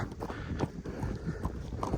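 Horse hooves clip-clop in a steady, fairly close rhythm on hard ground, with a continuous low rumble of background noise underneath.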